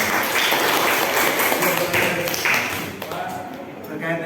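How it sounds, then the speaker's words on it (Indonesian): A classroom audience applauds, a dense wash of clapping at steady strength that thins toward the end, with a few louder individual claps standing out. "Beri aplaus dong."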